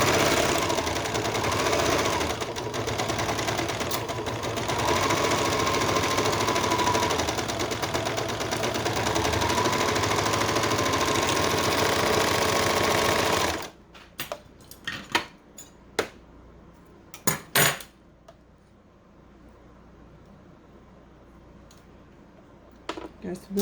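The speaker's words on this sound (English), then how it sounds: "back to the serger we go" A serger sewing the side seams of bell bottom pants, a loud steady whirring run for about fourteen seconds, then stopping, followed by scattered clicks and handling noises and a voice speaking.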